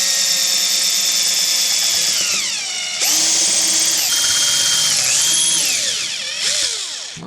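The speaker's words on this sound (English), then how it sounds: "this drill is obviously a bit bent" A slightly bent power drill bores into the pickup slots of a Stratocaster guitar body, a loud, close whine that sags in pitch as it bites and rises again when it eases off, over several seconds.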